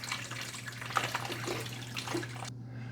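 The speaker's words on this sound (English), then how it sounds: "I'm just going to dump it in." Water and vinegar mixture is poured into the reservoir of a Cuisinart SS-GB1 Grind & Brew coffee maker, a soft continuous splashing trickle over a low hum that stops abruptly near the end.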